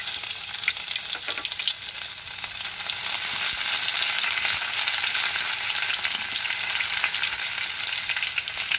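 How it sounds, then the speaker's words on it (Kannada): Ginger garlic paste fries in hot oil with popped mustard seeds, a steady loud sizzle with crackling spatters and some stirring throughout. "ಸಾಸಿವೆ ಸಿಡಿದಿದೆ, ಅದರ ನಂತರ ಶುಂಠಿ ಬೆಳ್ಳುಳ್ಳಿ ಪೇಸ್ಟ್ ಹಾಕ್ತಾ ಇದ್ದೀನಿ"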